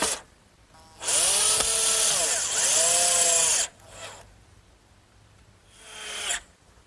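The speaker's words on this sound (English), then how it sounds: "I want to make sure I take the precaution of pre-drilling so I won't split this nice cedar." A power drill whines in two long bursts as it pre-drills into cedar, with pitch dipping under load, followed by two shorter, fainter spins.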